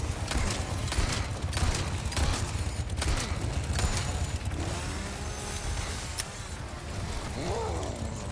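Shotgun blasts in the Resident Evil 4 Remake, with sharp repeated booms in the first few seconds over a dense, noisy game soundscape of creaks and mechanical clatter.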